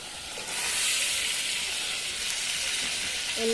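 Paneer masala gravy simmering in a home kitchen pan gives a steady, even hiss and soft sizzle that holds at a moderate level throughout, with no talking.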